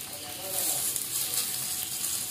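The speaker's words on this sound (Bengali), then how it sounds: "আলুটা প্রায় একটু ভেজে নিয়েছি আমি, এবার এর মধ্যে দিয়ে দেবো আমি পেঁয়াজ" Chopped onions join potatoes already frying in a pan, producing a bright hissing sizzle that swells after a moment and holds steady, with a voice faintly present beneath.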